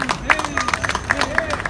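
A political rally audience clapping, scattered uneven claps breaking out over crowd murmur while someone speaks loudly over them.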